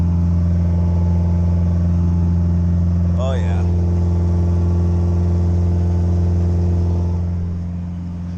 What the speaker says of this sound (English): she got some high idle going.